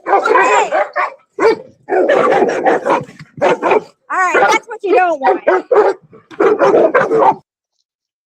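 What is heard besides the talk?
dogs barking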